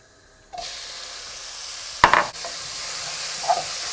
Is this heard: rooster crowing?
no